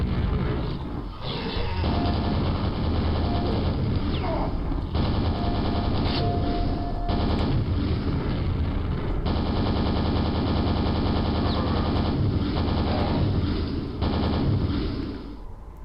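Nailgun fire in Quake: rapid, loud rattling bursts of shots in a near-continuous stream, with brief pauses, over gritty in-game roars and effects.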